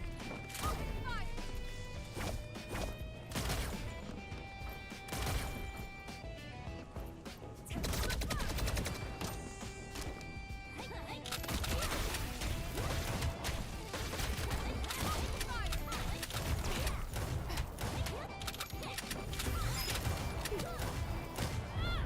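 Dense video-game gunfire and crashing impacts erupt in rapid volleys after an order to open fire, layered over loud music and game effects, with the barrage growing busier in the second half.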